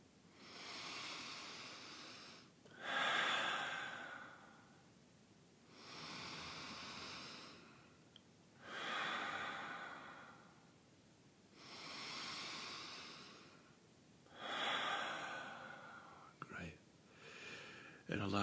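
Slow, deep meditation breaths, four long inhale-exhale cycles of soft airy breathing, close and quiet with no voice over them, followed by a few shorter irregular breaths.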